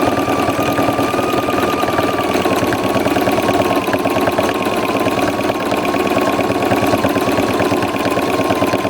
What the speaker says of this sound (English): And that is free motion stitching, quilting.